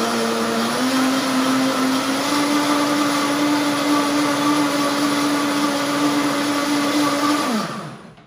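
A Vitamix blender whirs loudly and steadily up close as it blends pancake batter, its motor pitch holding constant for several seconds before winding down and stopping near the end.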